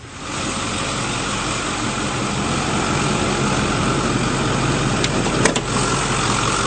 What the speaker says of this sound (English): this engine's running very smoothly